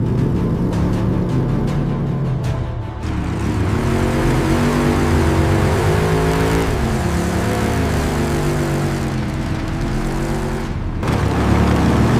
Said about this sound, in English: Unleash the supercharged V8. This is the Raptor R.